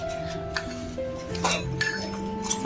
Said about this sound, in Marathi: बाप्पा हे घे तो वाजवतो आहे.